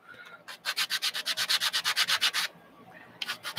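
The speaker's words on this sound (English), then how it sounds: "Sand off the little tabs, since they're plywood" Rapid, even back-and-forth rasping of a sanding stick on plywood model-kit tabs, about a dozen close strokes in a steady rhythm, then a pause and a few more strokes.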